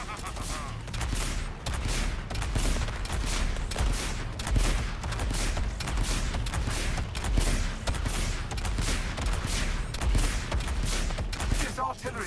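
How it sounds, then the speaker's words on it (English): Dense, continuous rumbling of rapid explosions from an artillery barrage in a video game, a steady wall of overlapping blasts lasting throughout without pause. "This artillery barrage should keep you in check."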